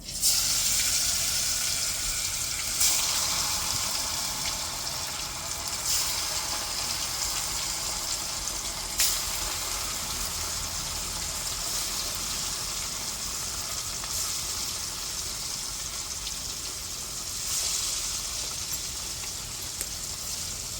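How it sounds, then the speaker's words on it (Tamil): Fish frying in hot oil: steady sizzling and crackling continues without a break, with occasional sharper pops and spits over the frying. "இப்போ எண்ணெயில் போட்டு பொரித்து எடுத்துக்கிடுவோம்."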